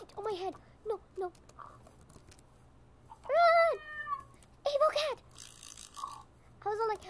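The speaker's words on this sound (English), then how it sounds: "Oh, there's a cat, and what is it killing?" Cartoonish cat meows in a video game, several rising-and-falling cries in bursts, some loud and close, with brief gaps and quieter game sounds between them.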